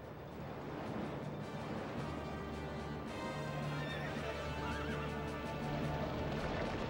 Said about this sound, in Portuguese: ele rapidamente reúne suas bigas e persegue os israelitas